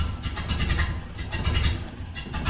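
A Ford Model A barn-find engine runs steadily at a rough idle, a continuous near, loud low rumble with uneven firing pulses throughout.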